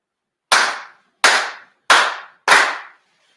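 Four sharp, loud ceremonial hand claps ring out, evenly spaced and slow, during a Konkō grand anniversary ceremony. Each clap stands alone with silence between them.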